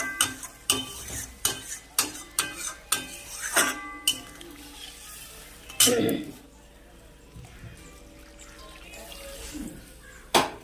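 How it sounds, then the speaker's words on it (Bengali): Water is poured into a pot of bata fish curry with radish and potato and stirred, with a run of sharp spoon-on-pot clinks, a brief splashy burst midway and a faint simmer, while a person talks. "এইবার আমি জল দিয়ে দেবো চলো একটু নাড়িয়ে নিই"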